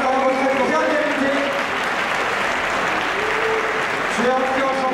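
Audience applause at the final of a video game tournament, a dense steady clapping that fills the whole stretch, with a voice talking over it at the start and end.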